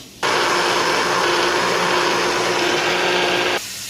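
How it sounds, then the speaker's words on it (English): An old, struggling kitchen blender whirs garlic and plenty of oil, switching on abruptly into a loud, steady high-pitched motor whine, then cutting off just as sharply a few seconds later. "I'm going to start putting it in the blender"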